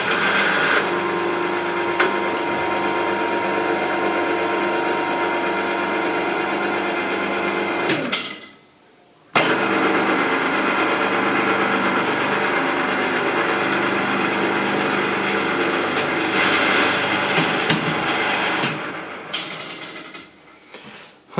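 A tap cutting a thread into a metal plate, likely machine-driven during mill work on a Ferguson tractor wet sleeve puller: a steady whirring mechanical drone with a brief dropout midway, resuming and ending with scraping bursts.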